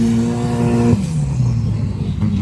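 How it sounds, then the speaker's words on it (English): A turbocharged 2-liter race truck engine roars loudly and close, its steady high revs dropping sharply about a second in, then settling into a lower, rumbling drone with no voices. "Turbo sounds cool."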